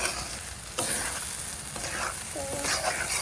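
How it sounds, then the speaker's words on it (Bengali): Beef brain fries in a pan for a Bangladeshi bhuna, with a steady, close sizzle broken by scraping stirs of a spoon against the pan. "ভাজা ভাজা করছি।"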